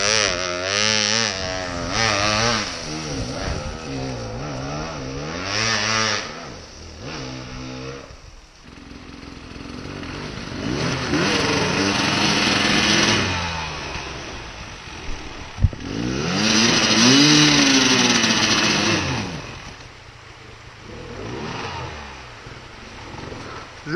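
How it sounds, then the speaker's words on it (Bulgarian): A motorcycle engine revs hard in repeated rising, buzzing throttle bursts, close and loud, with pauses between pulls and brief shouting voices around it. "Ей, дай газ на този мотор"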